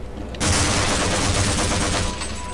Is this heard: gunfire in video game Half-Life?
yes